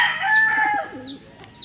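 A gamefowl rooster kept for cockfighting gives one close, loud crow that trails off at the end.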